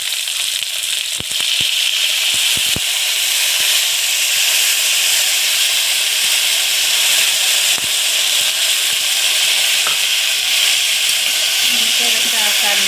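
Bitter gourd frying in hot oil with tamarind juice just added, giving a loud, steady sizzling hiss throughout, with a few faint clicks of a stirring spoon near the start.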